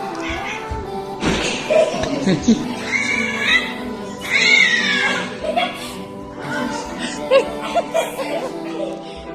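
A cat meows and caterwauls repeatedly while being handled roughly, the cries loud and close, mixed with laughter and talking throughout.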